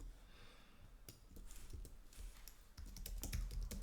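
Quiet clicking of keys on a computer keyboard, a short burst of taps, then a pause, then a denser run of keystrokes, close and faint with no voices.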